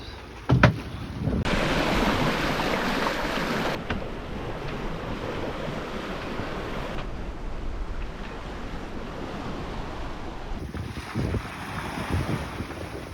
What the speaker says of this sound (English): Here we are downwind sailing in the Atlantic.